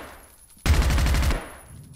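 A gun in the video game Zero Hour fires one rapid automatic burst of about ten loud, close shots lasting under a second, followed by a fading echoing tail and quiet room tone.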